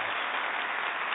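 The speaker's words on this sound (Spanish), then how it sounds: "Un aplauso para esta gente tan querida." A television audience applauds guests on a talk show, giving a steady, dense wash of clapping that is continuous and even for its brief length, with no talk over it.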